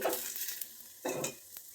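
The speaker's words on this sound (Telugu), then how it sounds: "ఇంకా రోస్ట్ కావాలంటే ఇంకా బాగా కాల్చుకోవాలండి" A dosa roasting on a hot griddle gives off soft sizzling and frying hiss, with brief scraping and stirring touches, close and fairly quiet, with no talk.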